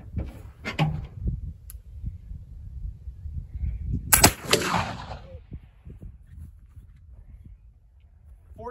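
A black powder flintlock fires a shot loaded with 1F Swiss powder, one loud close crack with a short whoosh of ignition and a brief tail, outdoors, with voices speaking around it.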